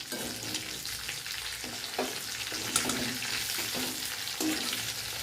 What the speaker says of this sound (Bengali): এইরকম লাল লাল করে ভেজে নিতে হবে।